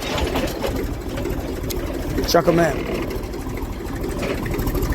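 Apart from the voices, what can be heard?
tractor engine slowing down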